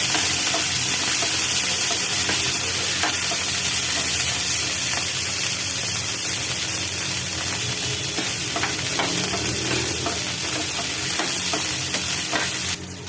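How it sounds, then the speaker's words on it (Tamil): Chopped okra frying in oil in a pan, a loud, continuous close sizzle and hiss with occasional scrapes and taps of stirring running throughout. "வெண்டைக்காவை இந்த மாதிரி அரிஞ்சு வச்சிருக்கேன். இதை இந்த பேனில் போட்டுக்கலாம். இதை நல்லா ஃப்ரை பண்ணி எடுத்துக்கலாம்."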